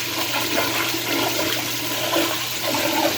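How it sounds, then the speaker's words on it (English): An American Standard toilet flushes for a long time in a public restroom at a cave attraction, a steady loud rush of water that runs on without break from start to end. "That was a very long flush."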